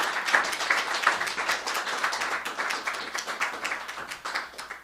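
Audience at a Christmas comedy stage show breaking into a round of applause, many close, crisp claps pattering steadily and then tapering off.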